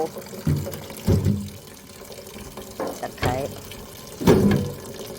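Raw chicken being washed in water in a kitchen, with splashing and swishing bursts coming in several separate pulses while a person talks in between.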